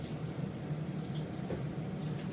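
Tap water running steadily while coriander leaves are rinsed, a soft continuous close-up splash with no speech.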